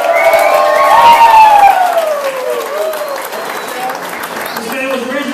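A crowd applauds and cheers steadily while an amplified voice calls out over the noise.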